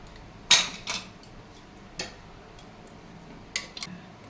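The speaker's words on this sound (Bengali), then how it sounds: "কুকারে ঢাকনাটা খুলে নিচ্ছি" Metal pressure cooker lid being opened while making Bengali mutton kosha: a sharp metallic clack, followed by a few lighter clinks and taps spread out over quiet kitchen background.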